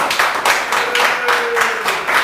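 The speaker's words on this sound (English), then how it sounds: "Thunderous applause" An audience claps at a Cub Scout leader meeting, with a loud, close burst of hand claps in an uneven rhythm of pulses lasting about two seconds.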